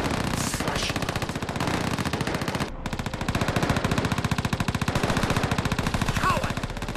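Dense, continuous machine-gun fire and battle gunshots from the Call of Duty: World at War video game, loud and rapid throughout with a brief break near the middle before the rattling bursts resume.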